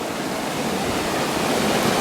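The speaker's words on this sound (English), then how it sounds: "The waterfall." A Rocky Mountain waterfall pours with a loud, steady broadband rush of falling water, continuous and close, with no voices over it.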